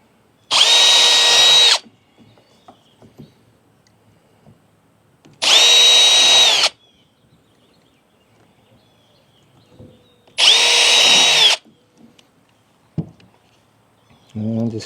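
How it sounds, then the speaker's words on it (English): Three loud bursts of a power drill whining at high speed while drilling holes for a kayak gear rail, each about a second long and separated by quiet pauses with faint handling clicks. "we're just going to go down the line and drill these out"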